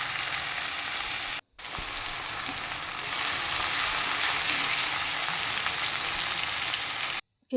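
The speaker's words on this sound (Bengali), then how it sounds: "দিয়ে একটু ভালো করে নেড়ে নিচ্ছি।" Ginger, garlic and tomato sizzle steadily in a frying pan while being stirred, a close, continuous hiss of frying with two brief breaks in the sound.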